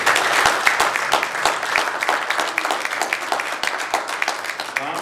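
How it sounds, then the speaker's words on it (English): A steady round of applause from an audience welcoming Dr. Bob Herman to speak, many hands clapping densely and evenly at close range with no voices over it. "So let's welcome him with a round of applause."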